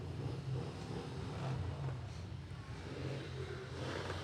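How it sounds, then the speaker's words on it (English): Motorcycles of the Combat Veterans Motorcycle Club ride in the Enid Noon AMBUCS Veterans Day Parade, a faint, steady low engine rumble that holds throughout with some wind noise. "And they got some noise here. Enjoy these motorcycles."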